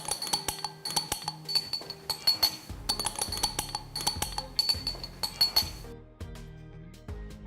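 A metal spoon stirs chili powder, coriander powder, turmeric and garam masala in a bowl, making rapid bright clinks in repeated bursts, close and without talk.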